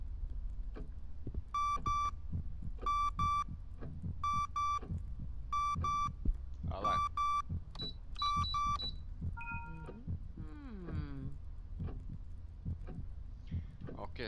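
Electronic alarm in the horror video game Song of Horror, repeated sharp beeping bursts in a steady pulsing rhythm over a low throbbing background, followed by wavering synthetic tones, with some quiet talk.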